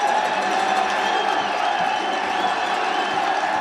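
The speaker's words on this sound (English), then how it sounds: "The crowd here doesn't like the spot of the football." A large football stadium crowd at a university conference final roars in a dense, sustained wash of cheering and shouting, loud and continuous throughout.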